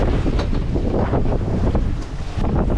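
Strong wind buffeting the microphone over rough following seas around a sailboat under full headsail and double-reefed main, a loud continuous roar with surging wave washes and no talking.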